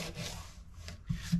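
Fine abrasive sanding on a metal guitar fret during a fret job, a soft scratchy rubbing with a few short back-and-forth strokes, close and fairly quiet, no voices.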